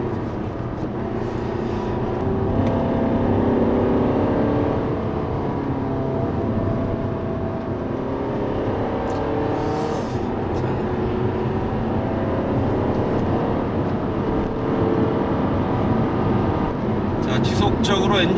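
A 2016 Fiat 500X engine holds a steady 3000 to 4000 RPM in sport mode with manual shifting for a long stretch, droning continuously and close, with a person talking over it.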